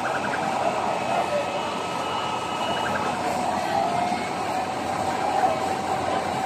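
Fire truck siren wailing as firefighters arrive at a burning house in a Parañaque neighborhood, sounding steady and somewhat distant beneath constant crowd noise and chatter.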